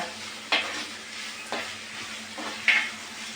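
Onions sautéing on a stove for a chilli dish: a steady, close sizzle with a few sharp stirring scrapes at intervals, no voices.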